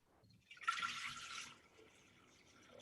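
Water poured into a pot of cardamom-spiced drink on the stove in an Indian cooking class, a brief splashing burst lasting about a second, then quieter room sound.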